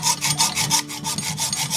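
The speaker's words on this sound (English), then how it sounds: "this is the hacksaw that we're going to be using" A hacksaw cuts through an old cast sewing machine body, making steady rhythmic back-and-forth rasping strokes about four per second, close and loud, with no voices.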